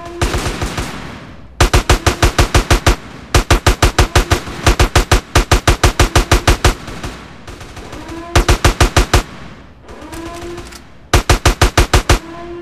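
Automatic gunfire in GTA San Andreas, loud repeated rapid bursts of shots separated by short pauses, with no talking.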